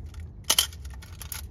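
A Nikon F Photomic TN film camera fires its shutter at 1/15 second: two crisp mechanical clicks in quick succession, close and clear against a quiet background.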